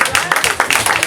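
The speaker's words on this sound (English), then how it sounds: "Let's give a hand clap for Alice, man" Audience clapping for a poet at a spoken word event, a loose burst of many hands close by, filling the moment without speech.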